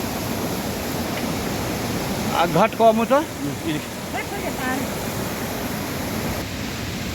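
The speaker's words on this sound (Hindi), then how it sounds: "देखो यहाँ पे पूरे जंगल का पानी आता है और कितना बड़ा गदेरा जा रहा है" A large mountain stream carrying runoff from the surrounding forest rushes beneath the Gwaigad bridge in steady, broadband roaring. Someone speaks briefly over the water midway through.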